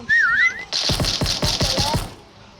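In a video game, a warbling two-tone whistle sounds briefly and clearly, then gives way to a rapid series of sharp gunfire-like impacts.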